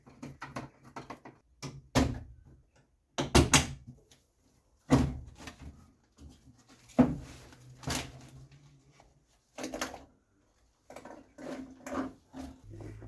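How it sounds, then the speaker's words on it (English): Trim clips and a door card being pried and pulled away from the inside of a Mopar C-body car door, giving scattered sharp knocks, clicks and thumps with short quiet gaps, close up and with no talking. "you've got to take your door panel off"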